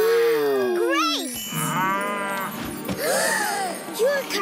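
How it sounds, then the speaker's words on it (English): A cartoon cow gives several drawn-out, wavering moos, loud and close, interspersed with short bright musical or effect tones. "Your cow is alive, Chloe."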